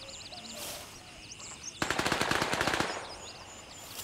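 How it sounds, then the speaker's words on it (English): A machine pistol fires a single rapid burst of about a dozen sharp rounds in the military shooter Gray Zone Warfare, loud and close, with birdsong chirping behind it before and after. "That's a machine pistol."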